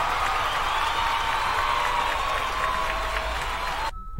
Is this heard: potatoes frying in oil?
no